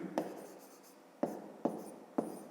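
Handwriting on paper while a math exercise answer is written out, with quiet pen or pencil scratching broken by four sharp taps of the pen as strokes begin, close and soft, no voice.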